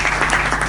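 An audience at a Hindi hasya kavi sammelan bursts into dense, steady applause to welcome the poet Dr. Poonam Verma, a brief wash of clapping with no voices over it.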